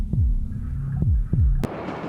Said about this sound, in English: The pounding rhythm of the mother's heartbeat is the first imprint the fetal brain receives.